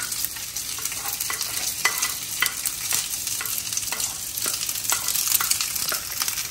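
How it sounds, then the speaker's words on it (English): Seasoned rice frying in a pan for Chinese fried rice: a steady sizzle close by, with frequent scraping and stirring clicks from a utensil and no talking. "we don't need to do much but just fry it and heat it up. So place the rice in there."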